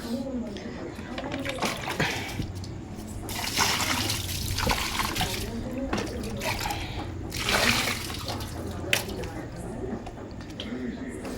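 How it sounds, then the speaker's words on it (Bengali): Tap water running over leafy greens being washed in a home kitchen, steady splashing trickle close by, with a voice talking over it. "তারপর শাকটা ধুয়ে নিই"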